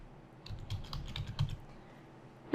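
Quick, uneven bursts of key taps on a computer keyboard as a short lowercase folder name is typed, close and fairly quiet, then a sharp click right at the end.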